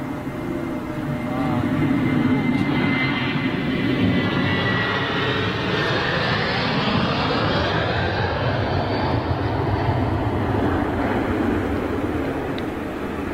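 A jet airliner departing for Istanbul rolls down the runway and rotates, its engine roar loud and sustained, swelling broadly and holding steady for the full span with no pauses.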